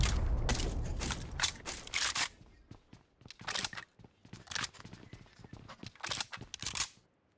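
Rapid bursts of shotgun fire in PUBG Mobile, in clusters separated by short quiet gaps, sharp and close with no talking.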